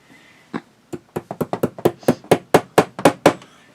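Hammer blows drive a nail into a wall close to the ceiling, about a dozen sharp, evenly spaced strikes that come quicker and louder toward the end, heard alone at close range.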